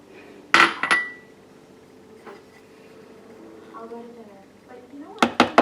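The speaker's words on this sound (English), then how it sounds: "So what we're going to do now is we're going to just add these to the Vitamix." Ingredients clatter and clink into a Vitamix blender container in a kitchen while making plant-based enchiladas, with a few sharp knocks at the start and end and a person talking in between.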